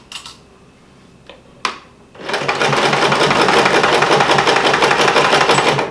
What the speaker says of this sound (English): Do your back stitch and then just continue sewing down until you've got the strap properly secured in there.